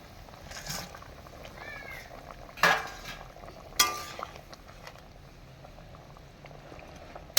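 Bottle-gourd lentil cakes (dhoka) are slipped into a boiling gravy. A steady bubbling simmer is broken by two sharp clattering drops, and a faint meow-like chirp can be heard. No speech.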